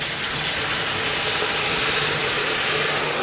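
Mussels, shallot, fennel trimmings and white wine hit a hot pan with a loud, continuous hiss and sizzle, steady and close throughout.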